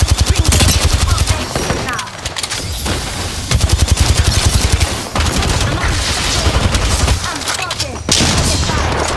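Loud automatic gunfire in Apex Legends: dense, rapid bursts crackle almost nonstop across several seconds with brief gaps, booming and close, with occasional voices talking over the fire.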